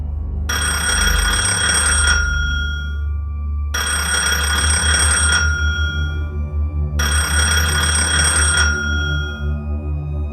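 A telephone rings loudly three times in steady, evenly spaced bursts, each ring lasting about two seconds, with nothing else heard.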